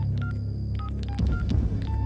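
A cell phone number is dialed: a quick series of short electronic keypad beeps at varying pitches over a low steady hum, close and clear with no voices.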